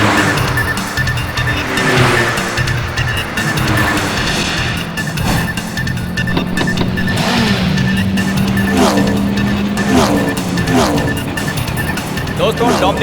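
Race cars launching at the start of a race, with loud engines roaring and tires squealing as they pull away, under excited Hindi commentary.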